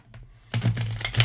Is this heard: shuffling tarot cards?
yes